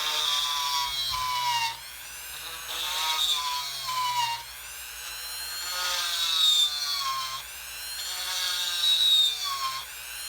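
A Dremel fitted with a serrated ball bit grinds a countersink into a seashell, a high whining, rasping buzz that rises and dips in repeated passes, close and fairly loud with no talk.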